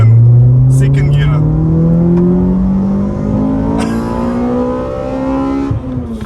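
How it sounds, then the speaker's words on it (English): Toyota GR Yaris engine revving hard in second gear toward its 8,000 RPM redline, a loud, continuous rising drone climbing steadily in pitch with a brief dip near the end, while a person talks over it. "It just doesn't stop revving"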